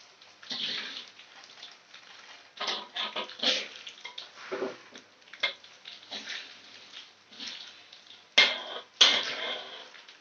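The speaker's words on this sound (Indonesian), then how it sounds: "Kita bisa mulai mengangkat kacang untuk kita tiriskannya" Fried peanuts being lifted out of a pan of cooking oil with a metal utensil to drain, giving irregular clinks, scrapes and rattles with two sharper knocks near the end, close and fairly clear.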